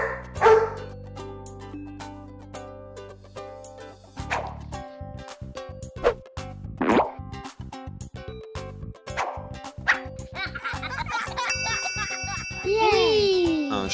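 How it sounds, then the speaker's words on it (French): Several short dog barks scattered through the clip over a bright musical backing, with a voice speaking between them. "Un chien."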